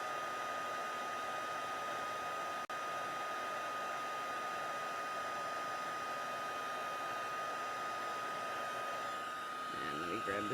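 A craft heat tool blows hot air over puff paint on a card, a steady loud whooshing hiss that runs without pause and shifts slightly near the end.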